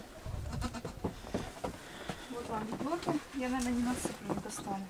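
A goat at a snowy farmyard feeder bleats several times in short wavering calls near the end, close and fairly loud, mixed with people talking and scattered rustling.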